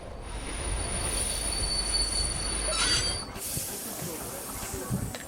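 A Trans-Siberian passenger train runs on its rails with a steady rumble, a sustained high metallic wheel squeal over it, and a shift in the rolling noise partway through.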